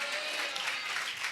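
Church congregation clapping in praise to God during a Telugu Christian sermon, a dense, steady wash of many hands applauding throughout the short stretch, fairly loud and without talk.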